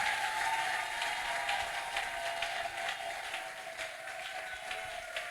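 A church congregation at a Sunday service applauds, a steady wash of many hands clapping together that holds at an even level and slowly eases.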